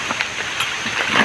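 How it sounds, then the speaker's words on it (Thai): Rain falling outdoors in the countryside, a dense, steady hiss of drops with soft irregular patters, fairly loud and close, with no voices over it. "ป้าฝนตกเนาะ"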